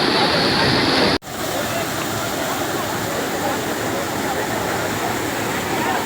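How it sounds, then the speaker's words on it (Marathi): A rainforest waterfall on a monsoon jungle trek where people are playing, a loud continuous roar of rushing water, briefly cut off near the start and then steady and close. "आणि आता पार लोक कशी मजा करीत धबधब्यामध्ये."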